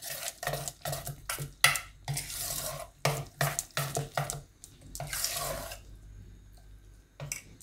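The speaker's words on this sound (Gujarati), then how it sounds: "ને થોડુંક આપણે પાણી નાખીશું" Water poured into rava idli batter in a bowl, heard as short splashing pours mixed with repeated close stirring and clinks of a utensil, with brief quiet gaps and no talking.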